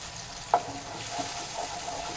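Spice paste with ginger fries in a pan for pepper rohu, giving a quiet, steady sizzle with a single sharp utensil tap near the start and faint stirring after it.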